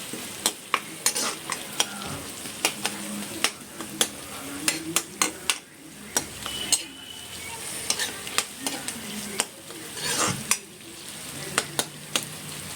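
Onions stirred and frying in a pan until browned for chicken masala, with a steady close sizzle broken by regular sharp clacks of the spoon against the pan.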